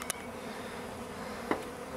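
Honey bees from a swarm hum and buzz steadily in the background, with a few sharper clicks and knocks standing out briefly near the end.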